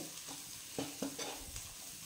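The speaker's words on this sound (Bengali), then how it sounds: "কাশ্মীরি মির্চি, জিরে, ধনে, এগুলো আমি সবগুলো দিয়ে দিলাম। দিয়ে এটা নাড়লাম, কিছুক্ষণ নেড়ে" Kashmiri chili, cumin and coriander frying in oil are being stirred: a faint soft sizzle with a few short scrapes of the spoon against the pan, and no voices.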